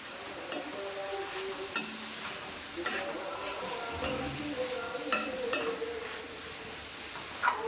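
Eggplant stir-fry cooking in oil is stirred in a pan, soft sizzling under intermittent scrapes and clinks of a spoon against the vessel, near and unhurried with no speech.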